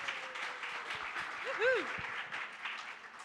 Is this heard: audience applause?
yes